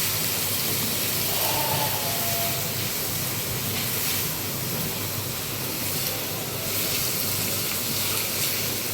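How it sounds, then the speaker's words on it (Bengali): Fish sizzles steadily in hot oil with onion and chili, a dense, even hiss that stays close and continuous with no talking over it. "আমি এটা পেঁয়াজ মরিচ দিয়ে শুধু একটু ভুনা করবো মাছটা"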